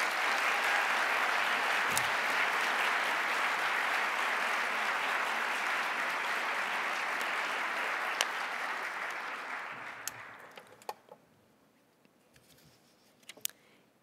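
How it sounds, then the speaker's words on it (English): An award ceremony audience applauds in a long, dense wash of clapping that holds steady, then thins out after about ten seconds into a few scattered final claps and quiet room sound. "Please join me in a round of applause."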